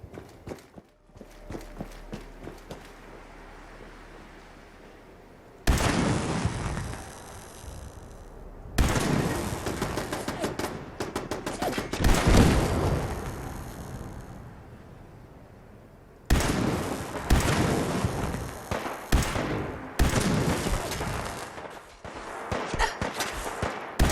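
A modded unique weapon with an area effect fires in a video game, giving several loud, abrupt bursts of blast noise that cut in and out. The bursts are separated by quieter stretches of low crackle and faint footsteps.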